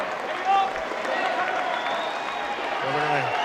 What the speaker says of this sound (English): He gets a standing ovation from the crowd here at Memorial Gym.